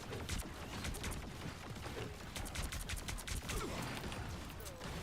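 Gunfire in the Marvel Rivals game, a continuous clatter of fast, quiet shots in irregular bursts with mechanical clicks mixed in, fairly distant and steady throughout.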